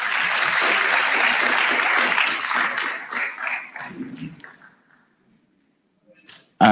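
Audience applause at a national SRC induction ceremony, a dense round of clapping that holds steady for several seconds, then thins out and stops, with a brief burst of noise at the very end.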